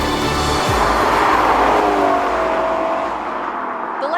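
A 2025 Lexus LC 500 Bespoke Build drives along steadily, its engine droning loud and continuous with a rising tone partway through and a slight easing toward the end, with no voices.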